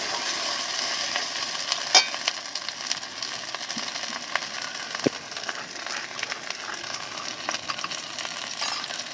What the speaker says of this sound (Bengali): অল্প অল্প জালে ভালোভাবে আমি মশলাটা কষে নেব।